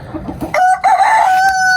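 A young Ayam Cemani rooster crows once nearby on a rooftop, loud and slightly strained, ending in a drawn-out, wavering note.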